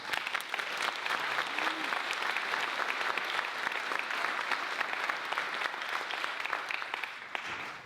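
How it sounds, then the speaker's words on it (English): Sustained applause from a festival audience fills the whole clip, dense and steady clapping at even loudness before tapering at the end. "A quick round of applause for our founder."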